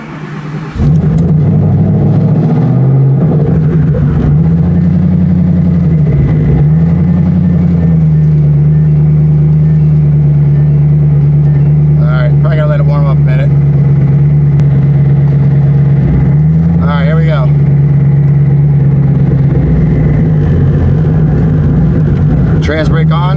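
A drag car with a new Circle D torque converter and check engine lights on idles loudly and steadily, with a few brief revs rising and falling over the steady rumble. Voices talk intermittently over the engine.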